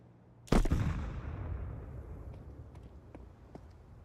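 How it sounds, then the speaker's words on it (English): A grenade goes off in Counter-Strike: one sudden loud blast after a brief quiet, then a long rumbling decay with faint clicks and taps. "Grenade out."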